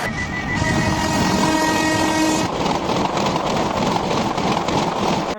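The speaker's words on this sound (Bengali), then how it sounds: "এবার দেখো সেকেন্ড ট্রেনটা।" A fast train speeding through Bangladesh, close and loud, its horn blaring for the first half before giving way to a dense rumbling roar with rhythmic wheel clatter, no talk.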